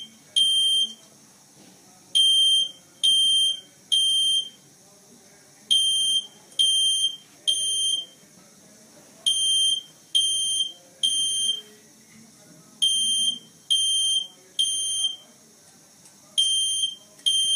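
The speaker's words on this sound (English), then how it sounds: "alert us about the fire alarm ringing in our home" A home smoke alarm sounds in repeated loud, shrill beeps, arriving in quick groups of two or three with short gaps between them, sharp and close with little else around it.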